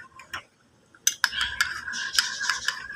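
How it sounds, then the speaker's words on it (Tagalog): A spoon stirs low-acid coffee in a cup, making light, close metallic clinks and taps. They start sparse, then speed up into a quick, faint jingling series. "haluin ko lang mabuti muna guys"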